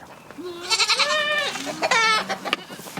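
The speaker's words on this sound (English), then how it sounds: "Those goats make some funny noises." Several goats bleat close by in a quick, wavering series of nasal cries, some rising and falling in pitch, with light farmyard background noise between calls.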